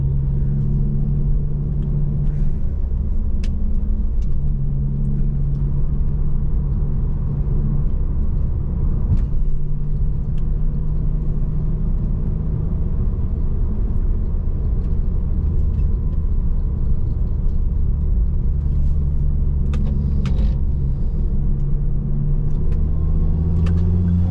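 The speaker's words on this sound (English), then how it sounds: "Third gear, second gear, back to the third gear" A car engine drones steadily from inside the cabin, its pitch stepping up and down as it moves through the gears, with road rumble underneath.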